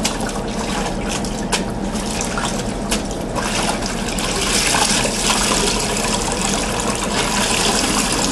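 Plain water runs and splashes steadily across a floor during rinsing, a loud, continuous wash of liquid with no pauses.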